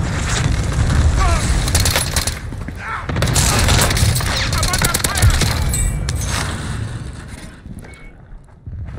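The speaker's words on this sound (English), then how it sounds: "Taking fire! I'm under fire!" Gunfire in Call of Duty: Warzone, dense overlapping shots and booms in rapid bursts over a loud battle din, with a voice shouting in the mix, fading toward the end.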